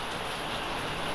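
Heavy rain pours in a dense, constant hiss that fills the space, loud and unbroken throughout, with no voices heard.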